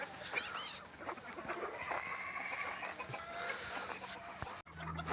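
Free-ranging chickens in winter cluck softly at a moderate distance, with scattered faint calls over a quiet outdoor background.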